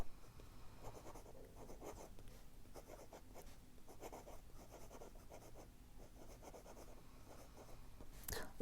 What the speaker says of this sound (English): But once I had changed it to the medium nib, man, this writing experience